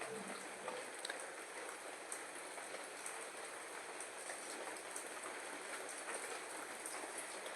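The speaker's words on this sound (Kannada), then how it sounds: "ಈ ಟೈಮಿಗೆ ಇಲ್ಲಿ ಸಿಕ್ಕಾಪಟ್ಟೆನೇ ಮಳೆ" Heavy rain pours outdoors in the Malnad hills, a faint, even wash of hiss with scattered drop ticks running unbroken throughout.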